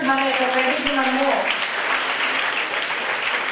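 Audience applauding at a National Girl Child Day celebration held at a district collector's office, steady crowd clapping that begins under a speaking voice and then continues alone.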